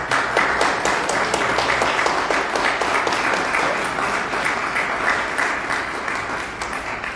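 Sustained, dense applause fills the room from an audience at a book talk, staying strong for about seven seconds before tapering slightly at the end.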